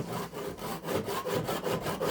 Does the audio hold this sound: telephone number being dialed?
no